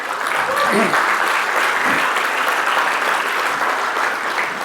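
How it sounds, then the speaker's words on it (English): An audience at a Black Hat Asia cybersecurity keynote gives a steady, full round of applause, dense clapping throughout, with a few brief voices calling out near the start. "let's give them a round of applause"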